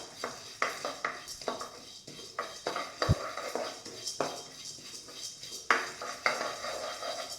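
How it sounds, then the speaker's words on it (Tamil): Roasted gram and cumin get stirred in a dry pan, with a spoon scraping and clinking against the metal in an uneven rhythm of close, crisp knocks and faint rustling. "சூட்லேயே பொட்டுக்கடலையும் கொஞ்சம் ஜீரகமும் வறுத்துக்கலாம்."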